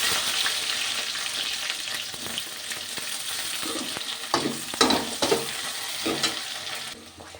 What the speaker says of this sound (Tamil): பொரிஞ்சதுக்கப்புறம் வெங்காயத்தை போட்டு நல்லா பொன்னிறமாக வதக்கலாம்